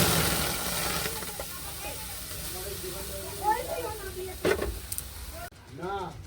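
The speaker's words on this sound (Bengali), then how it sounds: "আমের যে কাইটা বের করেছিলাম এবারে কড়াই দিয়ে দিচ্ছি" Mango pulp sizzles and hisses steadily in a hot wok (kadai) while it is made into mango papad, with someone talking over the frying.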